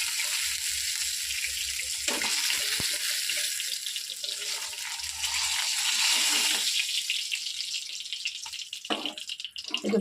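Fish that had been frozen sizzles in hot oil in a pan, a dense continuous hiss lasting several seconds, close and steady with slight watery crackle and no speech.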